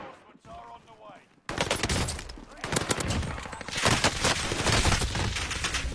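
Rapid gunfire bursts from a multiplayer shooter video game, loud and dense, continuing for several seconds after a short quiet start with faint background sound.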